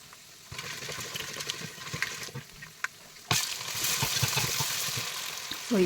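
Chana dal, cashews and peanuts sizzle as they fry in a pan, a steady crackling hiss with scattered stirring clicks that grows louder and denser about halfway through.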